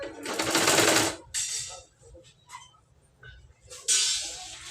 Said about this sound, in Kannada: ಮೇನ್ ಬಟ್ಟೆನ ಕರೆಕ್ಟಾಗಿ ಈ ರೀತಿ ಸ್ಟಿಚ್ ಮಾಡಿರಿ